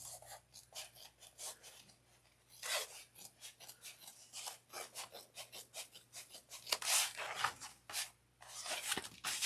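Scissors trim loose threads on a bucket bag, making repeated close snips and rubbing rasps in irregular bursts against a faint background hum.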